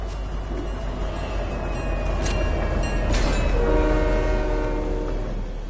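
A train rumbles steadily close by in the video game Fortnite, and partway through a long, loud train horn sounds over the continuous rolling noise.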